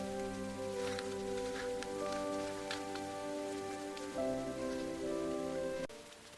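Rain falls steadily through a cold night, a soft continuous patter on surfaces with a few sharper drops, while faint sustained tones hum quietly underneath.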